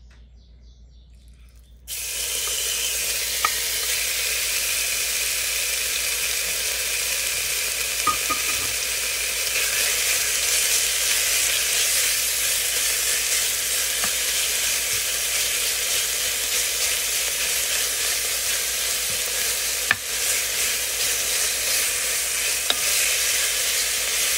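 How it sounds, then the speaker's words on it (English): Bacon dropped into a preheated pan: after a brief quiet moment a loud, dense sizzle bursts in and carries on steadily, close up, with a few faint clicks and no voices. "our pan is preheated. In goes the bacon."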